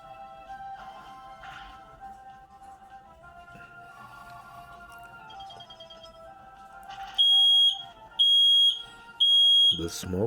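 Smoke detectors go off in three loud, shrill beeping bursts, evenly spaced near the end, following a quieter stretch of tonal background sounds.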